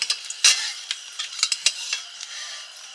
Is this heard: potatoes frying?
yes